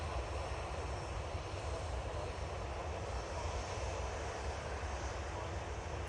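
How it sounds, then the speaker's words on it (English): A business jet comes in to land at Manchester Airport, heard as a steady broadband engine roar at moderate distance over a few seconds, with no talking. "there's a cheeky little bizjet has just come in."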